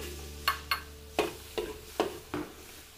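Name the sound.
garlic being sautéed in a pan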